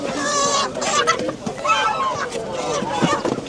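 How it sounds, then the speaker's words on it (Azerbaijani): Roosters at the Sabunchu poultry market give loud, close clucking and strained crowing calls in overlapping bursts. People talk throughout. "Əsas burada xoruzlar gördüm."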